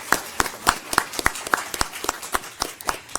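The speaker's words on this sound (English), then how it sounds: "So let's give them a round of applause" Sparse, evenly spaced claps from a small audience at a county school board meeting, honouring a state-champion lacrosse team. Each clap lands as a separate crisp snap, roughly three per second, moderately close with no voices.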